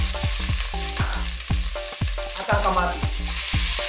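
Garlic, onion and tomato sautéing in hot oil in a cooking pot give a loud sizzle broken by regular stirring knocks, while a voice speaks briefly over it.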